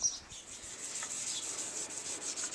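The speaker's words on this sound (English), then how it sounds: "let's get cracking with this rubbing down and see if I can make it look even better" Fresh, still-soft paintwork on a motorcycle sidecar project is rubbed down by hand, giving a steady, soft abrasive hiss with gentle rhythmic strokes, close and continuous, with faint birdsong outdoors.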